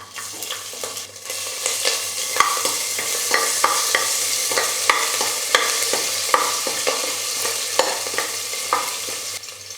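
Star anise, cinnamon, cloves, garlic and grated ginger frying in oil for rajma pulao, with a soft continuous sizzle broken by repeated sharp spoon taps and scrapes against the pan, close and alone.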